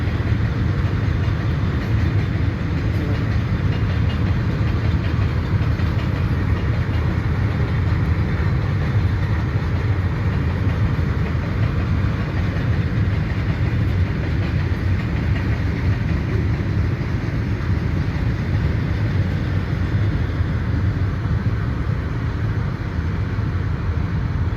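A train passes on the main line at Brajrajnagar, a steady loud rumble with continuous wheel and carriage noise throughout, with no talk.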